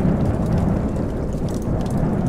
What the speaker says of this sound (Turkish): Fırtına hala devam ediyor.